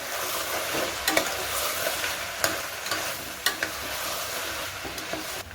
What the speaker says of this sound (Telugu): పసుపు తగినంత వేసుకోవాలి. ఒకసారి కలుపుకోవాలి.